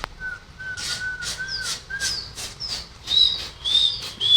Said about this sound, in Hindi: हल्की सी सीटी देके टाइट हो जाते कबूतर।